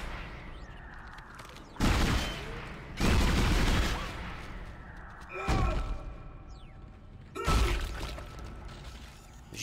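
Heavy gunshots from the Dead Space video game on hard difficulty, four or five loud booming blasts spaced a second or two apart, each followed by a decaying rumble against quiet, eerie ambience.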